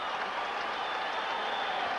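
A crowd in a gym applauds after a pin at a state wrestling championship, a steady, dense wash of clapping from many hands that stays loud and sustained throughout, with no talk.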